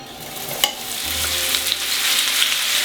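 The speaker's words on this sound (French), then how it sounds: "le bœuf dans la poêle." Beef searing in a hot frying pan with a splash of vegetable oil over a high flame, giving a steady loud sizzle with a sharp crackle near the start and a low hum joining partway through.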